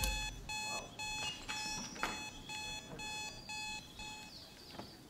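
A beeping alarm in Hitman 2 at Santa Fortuna sounds as regular repeated electronic pulses, a steady on-off rhythm at moderate loudness, with faint game noise underneath and no speech.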